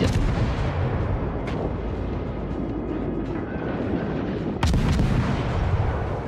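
Ship artillery guns fire in a World of Warships naval battle, a dense rumbling barrage with a couple of sharp booming salvos standing out, one especially loud near the end.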